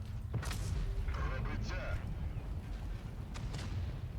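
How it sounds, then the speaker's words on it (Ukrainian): Tank cannon shots in a tank video game with a Caernarvon Defender, several sharp booming blasts at irregular intervals, some distant and one rumbling, amid constant low engine rumble. "Якісь рандомні постріли."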